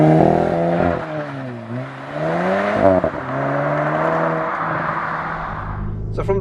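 MK8 VW Golf GTI hot hatchback on a country lane, engine note rising and falling through gear changes as it accelerates, a steady close cabin drone with a brief clatter near the end.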